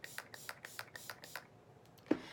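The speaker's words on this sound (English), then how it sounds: "Now I am going to just spray my sponge a little bit." A few short hissing spritzes of setting spray onto a makeup sponge, close and fairly quiet, coming in a quick rhythmic series before a pause and a small tap.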